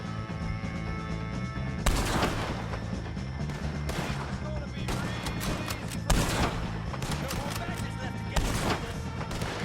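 Gunfire in the video game Red Dead Redemption 2 during a fight with O'Driscolls, sharp loud shots cracking out every couple of seconds over a dense wash of music and battle noise, with shouting voices.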